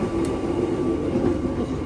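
Inside an executive-class passenger carriage of a moving train, a steady low rumble runs under faint rhythmic wheel clatter from the rails.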